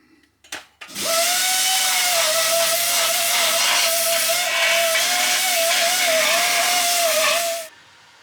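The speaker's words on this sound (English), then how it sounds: "I'll give it a bit grind up, tidy it up" Angle grinder dressing down welds on a replacement steel body panel of an MG RV8 during rust repairs, spinning up and grinding steadily and loudly with a high whine for about six seconds, then stopping.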